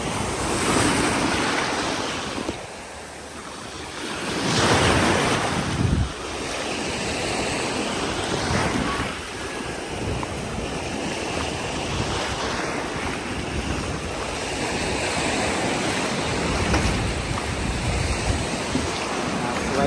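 Sea waves wash onto a beach of clear water and white sand on Thailand's Rayong coast, a loud continuous surf roar with swelling breakers and gusting wind noise on the microphone.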